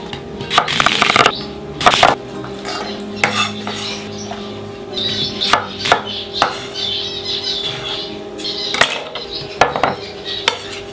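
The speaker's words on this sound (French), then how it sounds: "Oignon, coupe comme ça, tourne en petit dé." A knife dices an onion on a board in a home kitchen, with a string of sharp, close chopping knocks and clatters of bowls and utensils in irregular bursts, and no speech.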